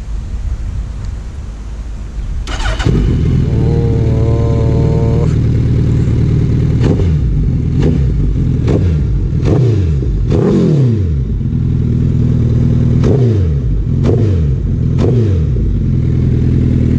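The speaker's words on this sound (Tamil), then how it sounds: "ஸோ டுகாட்டி ஸ்டார்ட் பண்ண சொல்லியிருக்கேன்." A Ducati Multistrada motorcycle with stock exhaust cranks and fires up, then settles into a deep, loud idle punctuated by repeated sharp throttle blips, close by throughout.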